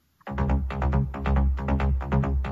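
A punchy synthesizer bass line plays alone, a rhythmic run of short buzzy notes repeating in a steady groove.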